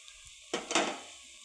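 A utensil scrapes and clatters briefly against a large cooking pan as pepper powder is stirred into fish moly made with choora fish, one short burst of stirring in a quiet kitchen.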